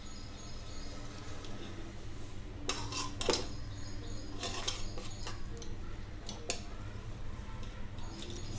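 Flat metal ladle scraping cooked chicken dum biryani from the side of a pot, a few short scraping and clinking strokes in irregular bursts over a steady low kitchen hum.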